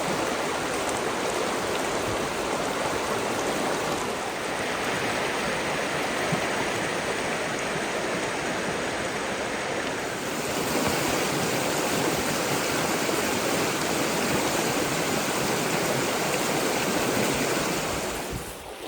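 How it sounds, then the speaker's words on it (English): Blue Scrub Creek flows steadily along a wilderness walking track, its water rushing in a dense, unbroken wash that stays loud and close throughout, with no voices. "this is Blue Scrub Creek"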